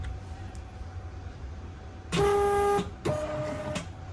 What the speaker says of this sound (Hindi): हमारा लेबल प्रिंट हो गया। ये हमारे लेबल प्रिंट होके आ गया।